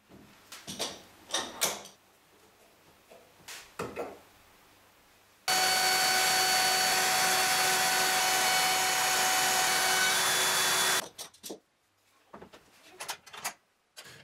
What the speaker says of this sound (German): Nach und nach werden alle benötigten Nuten in die Anschlagbretter eingefräst.